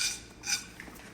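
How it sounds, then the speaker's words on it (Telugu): A metal lid set onto a cooking pot while making a homemade sweet, giving two or three short, faint metallic clinks and scrapes in a quiet kitchen. "ఇలా మూత పెట్టుకోవాలి."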